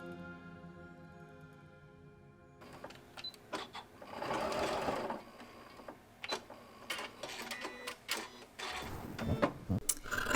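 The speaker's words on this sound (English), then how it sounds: "I'm going to sew a 1/2 inch inside the lines that I marked, starting at one side and making my way around to the other." Sewing machine stitching around a collar for a black dress, starting after a steady tone and running in uneven bursts of rapid mechanical whirring and ticking, close and moderately loud with no speech.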